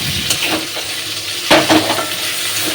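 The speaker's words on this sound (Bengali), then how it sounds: "এখানে আলু ভাজা বসিয়েছি" Potatoes fry in a kadai at a home kitchen stove, a soft steady sizzle broken by a few sharp scrapes and clinks of stirring, close and fairly loud.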